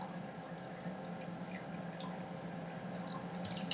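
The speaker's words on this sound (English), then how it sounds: "next I'm going to add 2 eggs that I've beaten into this bowl and 3/4 cup of chicken stock" Beaten eggs and chicken stock are poured into a bowl, making a soft, steady trickling splash with faint drips. The sound is quiet and continuous for a few seconds, with no talking.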